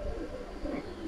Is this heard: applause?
no